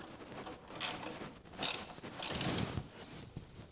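Clamp on an M4 slip-on exhaust being tightened on a 2026 Kawasaki ZX-6R motorcycle, with three close metallic ratcheting, creaking bursts separated by brief pauses, no talking.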